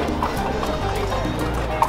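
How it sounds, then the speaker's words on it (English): Hooves of horses at a ranch in Colombia clip-clopping in a steady rhythm, close and fairly loud over a continuous outdoor background. "Let's see if we can score some horses."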